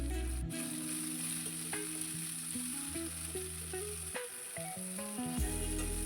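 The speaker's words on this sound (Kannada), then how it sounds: "ಎಣ್ಣೆಯಲ್ಲಿ ಸೇರಿಸ್ಕೊಂಡು ಹುರ್ಕೊಳ್ಳೋಣ. ಎರಡು ನಿಮಿಷ ಈ ರೀತಿಯಾಗಿ ಹುರ್ಕೋಬೇಕು." Bitter gourd frying in oil in a pan, a steady close sizzle with scraping stirs and clinks throughout, heard alone with no talking.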